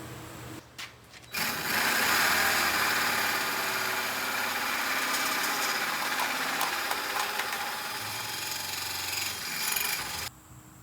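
A metal tube for tube half doors on a 1987 Ford Ranger is cut by a power tool, a loud steady grinding whine running for about nine seconds after a brief start-up, then stopping abruptly.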